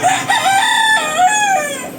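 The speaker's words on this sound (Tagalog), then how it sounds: "iingay naman itong mga manok na to" A rooster crows loudly and close by, one long drawn-out call with wavering pitch, with no other sounds around it.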